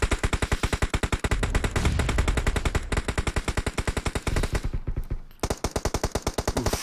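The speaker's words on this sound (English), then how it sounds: "They're just shooting blind towards the shots right now." Automatic gunfire in PUBG Mobile during a Masters League scrim match, rapid, loud bursts of evenly spaced shots rattling almost nonstop, with a brief gap near the end before firing resumes.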